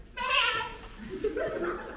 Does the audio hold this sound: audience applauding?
no